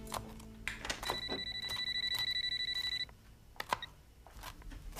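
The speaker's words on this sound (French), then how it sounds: "répondez au téléphone." Indoors, a telephone rings with one rapid, trilling electronic burst lasting about two seconds, surrounded by light clatter and small knocks.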